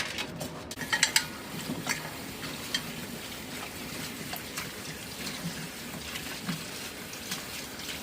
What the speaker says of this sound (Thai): แล้วก็ล้างด้วยน้ำเกลือ